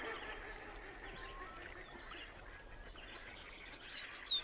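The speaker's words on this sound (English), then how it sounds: "The beaver's pond provides a habitat for waterfowl, a pair of ring-necked ducks." A pair of ring-necked ducks quack and call softly in the distance on a beaver pond among other waterfowl and bird chatter, faint against a steady outdoor background.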